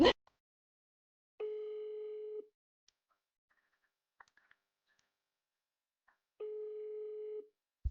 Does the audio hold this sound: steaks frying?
no